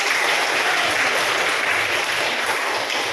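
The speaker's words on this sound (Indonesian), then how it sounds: "Baik, tepuk tangan." Students in a classroom clapping together, a dense, continuous round of applause at a steady, moderate level.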